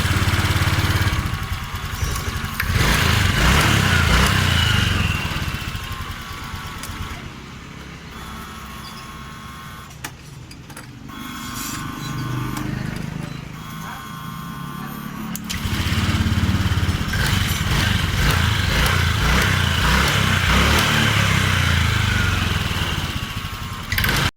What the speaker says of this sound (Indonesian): Coba kita nyalakan.